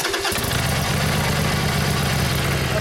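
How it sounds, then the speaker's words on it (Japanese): A 2016 Harley-Davidson Sportster XL883N engine with a Khrome Werks exhaust idles steadily up close, a continuous low rumble with a throbbing pulse and no voices. "エンジン音聞かせてもらえますか"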